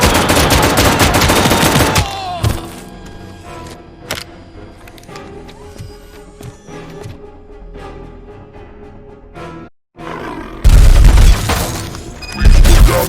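ED-209 robot gunfire in the RoboCop: Rogue City game: loud, dense bursts of rapid shots open and close the stretch, with quieter busy combat noise and clattering in between, no talk.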